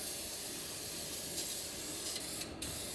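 A spray can lays heavy coats of paint onto a truck transfer case, a steady close hiss that runs throughout with one brief pause near the end.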